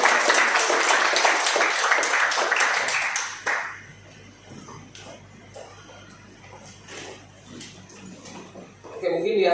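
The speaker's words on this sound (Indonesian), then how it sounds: "Tepuk tangan buat Tuhan di sana." A church congregation claps during a sermon, a dense burst of applause for about three seconds that fades into quieter room sounds and scattered small noises.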